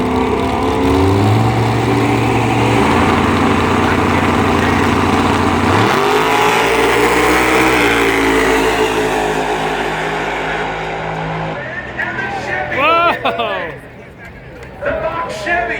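Hot rods and a Mustang at a Christmas tree drag race at Bradenton Motorsports Park roar steadily at full throttle with a loud, sustained engine drone that later fades as the cars pull away, with talk rising near the end.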